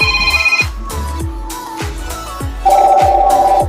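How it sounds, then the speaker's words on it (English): Phone ringing with an incoming call: a loud, close electronic ringtone of repeated pulsing beats with bright sustained tones, steady in rhythm, without any talk. "I had a phone call."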